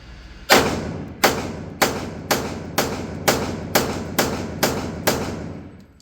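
Nine sharp gunshots from a home-built project gun fire in a steady, evenly spaced sequence about every 0.6 seconds, each a loud crack with a decaying tail, with no talking.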